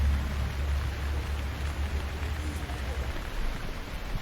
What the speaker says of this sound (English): Now, as the rain has eased off